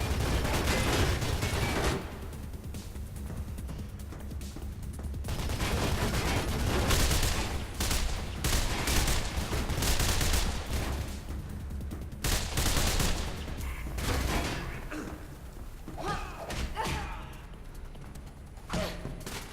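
Rifle fire in Mirror's Edge, dense bursts of loud shots and fusillades packed together for most of the stretch, with a voice speaking briefly among them.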